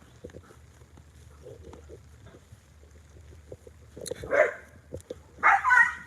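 A dog barks and yelps at a home during a casual live chat, two or three short loud bursts near the end after quieter sounds, heard alone without speech.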